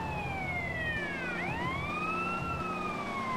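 Police car siren wailing in a GTA role-play game, a steady loud sweeping tone that dips and rises again midway, with engine rumble underneath and no talking.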